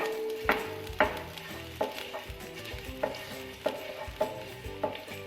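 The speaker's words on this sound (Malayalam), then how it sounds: "ഇതിന് നന്നായിട്ടൊന്ന് മിക്സാക്കി എടുക്കാം. വെളുത്തുള്ളി ഒന്ന് മൂത്തിട്ട് നല്ലൊരു സ്മെല്ല് വരും." Minced garlic is stirred and sautéed in a pan, with a continuous sizzle broken by roughly eight distinct scrape-and-clack strokes of the spoon at a loose, regular pace. Nearby and clear, with no speech.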